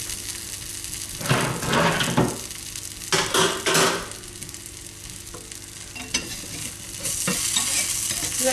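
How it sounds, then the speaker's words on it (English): Porridge pancakes fry in a pan with a soft sizzle, broken by a few bursts of utensil scraping and clatter close by. "I'm going to cook the other side and then I'm going to cook the rest of the pancakes"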